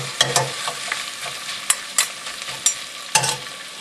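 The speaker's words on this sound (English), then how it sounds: "I just turn on my heat a little bit higher to medium high because I can tell I want that sizzle sound" Braised short ribs coated in paste sizzle in a pan over medium-high heat, a constant close frying hiss punctuated by sharp stirring clatters every half second or so, with no talking.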